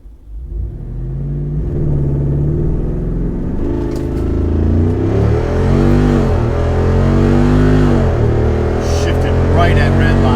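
A Jeep Wrangler 392 engine accelerates hard through the gears in Off-Road Plus mode, a loud, deep, rising roar with quick upshifts that briefly drop and then climb again, close and continuous.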